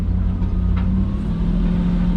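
A 1995 Kodiak truck with a 5-speed manual and 2-speed axle drives along, its engine holding a steady low rumble throughout, close and fairly loud with no talking.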